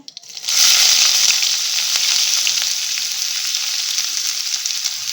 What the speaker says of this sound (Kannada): ಈಗ ಇದು ಸ್ವಲ್ಪ ಫ್ರೈ ಮಾಡ್ಕೊಳ್ಳೋಣ ಈರುಳ್ಳಿ ಸ್ವಲ್ಪ ಕೆಂಪು ಫ್ರೈ ಮಾಡ್ಕೊಳ್ಳೋಣ